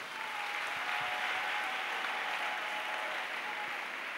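A church congregation applauds steadily throughout, a continuous dense wash of clapping with no pauses and no voices over it.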